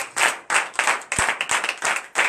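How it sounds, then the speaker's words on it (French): A congregation at a morning prayer service in Benin claps together in lively, rhythmic bursts, close and loud, with no voices standing out over the hands. "Veuillez vous lever avec de vives acclamations."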